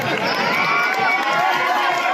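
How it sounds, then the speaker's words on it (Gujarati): Big crowd at a Khajur Bhai public event in Barvala giving a steady burst of applause and cheers, dense clapping mixed with excited shouting at constant loudness for the whole stretch. "અને આ માઇક વાળા માટે હોતો ને જોરદાર તાળી થઈ જાય."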